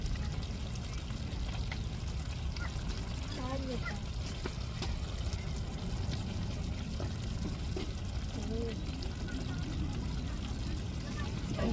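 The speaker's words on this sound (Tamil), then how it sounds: "நல்லா நெய்யை ஊற்றி" Ghee is poured over a dish topped with mint and coriander leaves in a home kitchen. A steady, continuous pouring and sizzling wash runs the whole time, with faint voices in the background.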